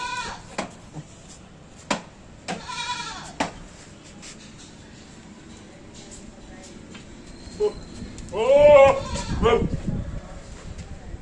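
Goats bleat at a Hyderabad farm where a heavy four-tooth Gujri buck and desi females with kids are kept, several calls spread through the clip with a louder burst near the end over background noise and voices.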